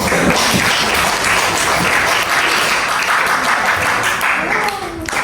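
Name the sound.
class applauding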